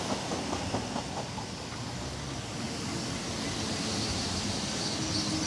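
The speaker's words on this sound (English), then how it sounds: "Is that a train coming in?" A train rolls in with a broad, steady rumble and faint rhythmic clatter at the start, the noise holding continuous and fairly near throughout.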